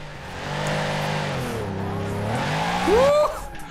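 A Mercedes G65 AMG in the Forza Horizon 4 racing game revs hard through a drift, with the engine note climbing and falling, then a sharp tire squeal near the end.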